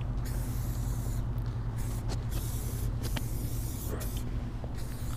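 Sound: silicone spray sprayed on a Kawasaki ZX10R motorcycle

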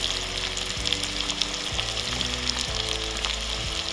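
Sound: onions sputtering while frying in a pan

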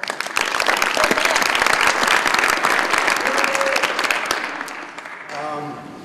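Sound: audience applause at athlete signing

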